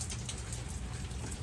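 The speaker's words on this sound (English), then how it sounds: "it's raining and it's out there" Steady rain falls outdoors on a wet Thanksgiving day, a continuous broadband hiss of drops striking surfaces around a Weber Summit charcoal grill, even and unbroken with no talk.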